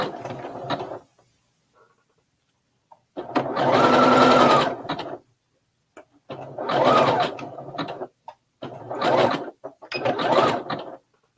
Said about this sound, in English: let's get this piece sewn back together.